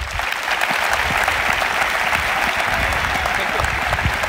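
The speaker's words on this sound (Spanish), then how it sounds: "el primer aplauso de hoy es para todos vosotros" Sustained applause from a large stadium crowd at a football team presentation, steady and dense clapping that fills the space without a break for several seconds.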